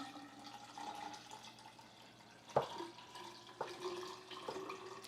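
Distilled water runs and trickles steadily while being measured out to 620 milliliters for medium format film developing, with a few sharp clinks and splashes midway, quiet and close with no talk.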